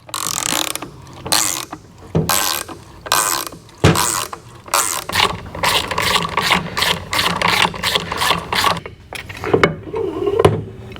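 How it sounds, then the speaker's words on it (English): A 3/4 inch gear ratchet turns a fastener on a Harley-Davidson M8 engine case, producing rapid, close clicking bursts separated by short pauses across the whole stretch. "It's just a 3/4 inch gear ratchet or socket."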